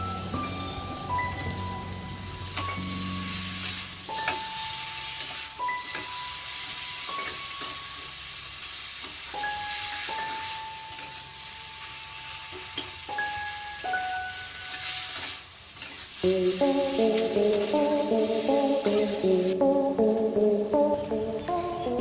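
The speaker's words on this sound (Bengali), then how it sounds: "পেঁয়াজগুলো একটু লাল হয়ে গেলে আমি সিদ্ধ করা কচু শাক দিয়ে নাড়তে থাকবো।" Boiled taro leaves stir-fried in a pan with onions, salt and turmeric in a village kitchen. A soft sizzle and stirring run under clear melodic music throughout, growing louder near the end.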